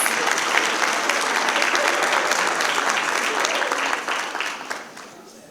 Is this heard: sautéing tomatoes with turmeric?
no